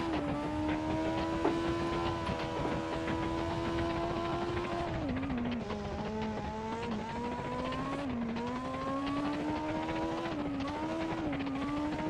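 Red Bull RB9 Formula 1 race car lapping the Nürburgring on ice roads in a video game, a loud continuous high-revving engine whine that shifts pitch with gear changes and throttle, steady throughout.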